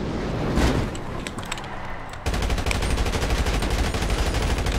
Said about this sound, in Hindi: साले पे मिनी गन थी गाइस, वो मशीन गन थी बड़ी वाली।